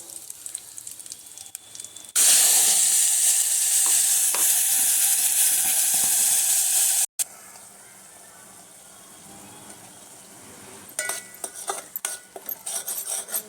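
Onion and ground gravy with cumin fry for Puneri misal, starting with a loud, close sizzle that cuts off abruptly, followed by quieter stirring with a spoon scraping and clinking against the pan.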